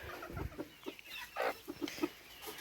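Hens and roosters in a farmyard flock cluck in short, irregular bursts, soft and fairly close, with quiet gaps between the calls and no talking.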